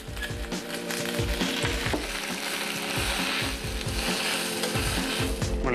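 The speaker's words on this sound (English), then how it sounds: "we're gonna saute some spinach because that is gonna be the bedding for the sausage" Spinach sautéing in a hot pan, a dense continuous sizzle broken by repeated rhythmic scrapes and tosses of a utensil, close and loud with no talking.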